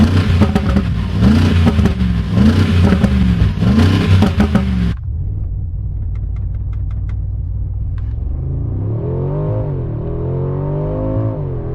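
A 2025 Mercedes-AMG G63 Performance SUV on the road, its engine first revving hard in loud rising surges, then settling into a quieter steady cruise before climbing again with a smooth accelerating drone.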